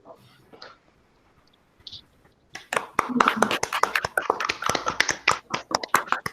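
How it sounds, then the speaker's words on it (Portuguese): After a quiet pause, a room at a festive anniversary gathering of an academic association breaks into applause for a professor, loud close clapping that continues to the end, with a little speech beforehand. "Eu gostaria de pedir uma salva de palmas para a professora."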